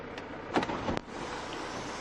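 Panoramic sunroof on a 75th-anniversary limited-edition camper van sliding open, a short soft motor whir with a couple of faint clicks and thumps, close and quiet, with no rattling.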